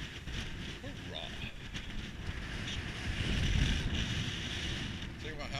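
Gusty wind buffets the microphone beside a big lake with waves, a steady rumbling roar that swells midway, while someone talks over it.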